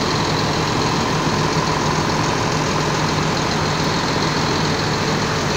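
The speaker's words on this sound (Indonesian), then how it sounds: "Ini bus Sumbar yang mewah nih teman-teman." Continuous close idle of a luxury Sumbar long-distance bus engine, an even low rumble with a faint whine above it and no one speaking.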